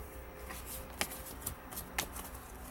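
Tarot cards being shuffled by hand during a reading, soft riffling with a few sharp snaps spaced about half a second apart, quiet and close with no talk.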